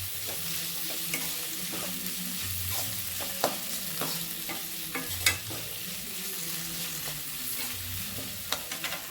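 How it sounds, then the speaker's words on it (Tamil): Vegetables and coriander sautéing in a pan for rava semiya kichdi: steady close sizzle with repeated scraping stirs and occasional sharp clacks of the spoon against the pan, no voices. "நம்ம இதுலேயும் கொத்தமல்லி தலையும் போட்டு வதக்கிக்கலாங்க"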